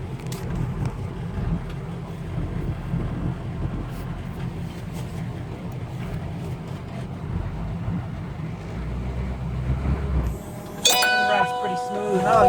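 Cabin sound of an M1009 CUCV military Chevy K5 Blazer with a 6.2 diesel, a steady low engine drone and road rumble throughout, with a clinking, rattling burst near the end.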